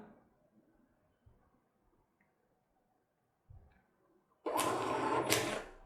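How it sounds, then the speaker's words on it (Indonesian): A cashier's receipt printer at a restaurant till prints a bill with a short, loud burst of rapid buzzing and a brief gap before a second burst, after faint quiet clicks. "printer akan mencetak bill, dan ini adalah struk"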